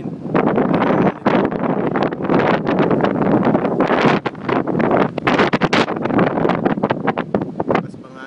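Strong wind roars and buffets across an open platform high atop Kingdom Tower, a loud, continuous gusting rush with constant flutter, and voices faintly mixed in.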